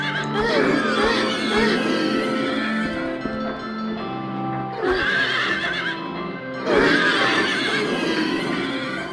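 Horses in Silent Hill 3 at the Lakeside Amusement Park neigh loudly in repeated whinnies, with clip-clop hoofbeats and a background hum that continue throughout.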